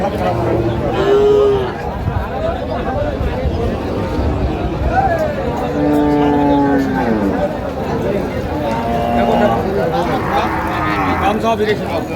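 Cattle mooing repeatedly at a busy cattle market where dairy cows are traded, several long loud calls rising and falling over a constant murmur of crowd noise, with people talking nearby.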